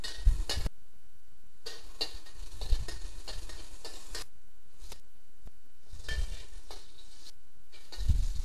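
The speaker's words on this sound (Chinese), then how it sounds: "爆香蒜碎" Minced garlic crackles and sizzles in two spoonfuls of hot salad oil in a wok, broken by short scraping stir strokes that come in irregular bursts, close and fairly quiet.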